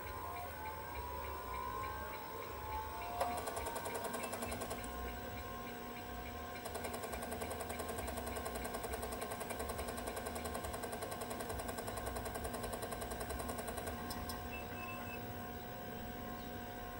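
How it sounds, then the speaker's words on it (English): A 1987 Turbo XT computer starting up, with a steady mechanical hum and repetitive chattering and whirring from its hard drive, faint and continuous throughout. "I love the sound of these machines when they start up and those hard drive noises"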